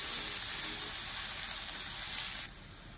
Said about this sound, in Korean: 여기에 양파랑 마늘을 먼저 볶아주세요.